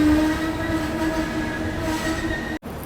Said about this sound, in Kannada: 12779 ವಾಸ್ಕೋಡಿಗಾಮ ಹಜರತ್ ನಿಜಾಮುದ್ದೀನ್ ಗೋವಾ ಎಕ್ಸ್ಪ್ರೆಸ್ ಬಂದೈತೆ ರೀ ರಾಯಬಾಗಿಗೆ.